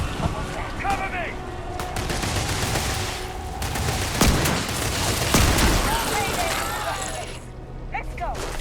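Gunfire in the sci-fi game Starfield during a fight with the Crimson Fleet, dense bursts of rapid shots and mechanical clatter throughout, loud and close, with game voices and effects mixed in.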